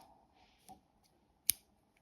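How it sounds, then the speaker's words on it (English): Scissors snip through knitting yarn in a quiet room: a faint rustle, a soft click, then one crisp, sharp cut standing alone. "Now I'm just going to cut my yarn"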